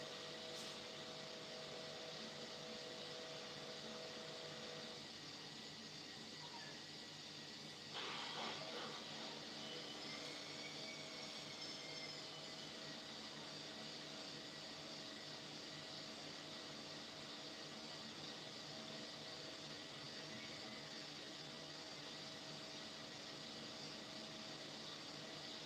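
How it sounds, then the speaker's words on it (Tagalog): A washing machine running through a laundry cycle indoors, a faint, steady broadband whir and hiss that continues throughout, with a brief louder surge partway through. "Naglalaba ako kaya maingay yung washing machine."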